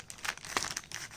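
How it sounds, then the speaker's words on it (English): Laptop packaging for a Lenovo ThinkPad E14 being torn and crinkled open by hand, a short burst of close, papery rips and crackles with one sharper tear near the middle. "I'll tear it."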